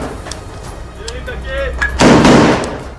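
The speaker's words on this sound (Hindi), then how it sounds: "इजरायल के सैनिक एक गोली चलाकर ही नहीं रुके, बल्कि उन्होंने एक के बाद एक कई गोलियां चलाई।" A single loud gunshot from Israeli soldiers cracks out near the end, a sharp blast with a ringing tail, preceded by faint background sounds and a distant voice.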